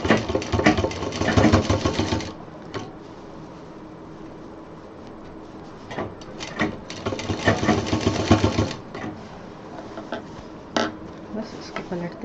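A sewing machine stitches fabric for a homemade baby diaper bag, clattering in fast bursts that stop and restart several times, with pauses and small handling clicks between runs, loud and close.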